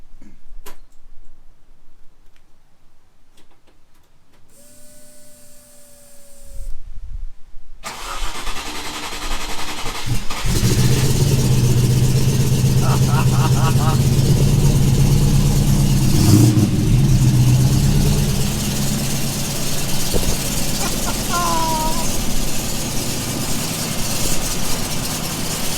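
A barn-find British muscle car engine cranks over after a few quiet, scattered sounds, then catches and settles into a loud, steady running rumble with some ticking, continuing to the end.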